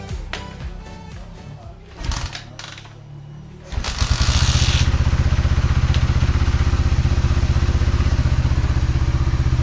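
A 2018 Suzuki Raider 150 fuel-injected motorcycle, rebuilt after damage and troubleshot for a no-idle fault, takes a few clattering kicks, then starts and settles into a loud, steady, close idle.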